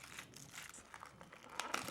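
Rustling and crinkling of a takeaway tagine container of beef with onions being opened, soft and close, with a few sharper crackles toward the end.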